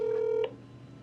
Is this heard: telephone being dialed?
yes